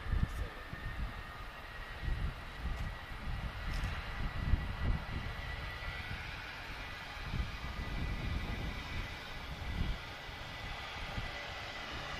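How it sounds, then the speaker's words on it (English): A Ryanair Boeing 737-800 takes off at Lisbon Airport, its engines a distant, broadband roar that swells and rolls steadily with no voices over it. "we've got another Ryanair off to Luxembourg, 737-800"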